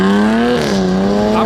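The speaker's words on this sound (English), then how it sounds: "The noises the F-type make from those twin pipes almost make up for the practicality deficit." Jaguar F-Type with a supercharged 3-litre V6 barks loudly through its twin exhaust pipes, a close, sustained engine note with a brief dip and rise in pitch.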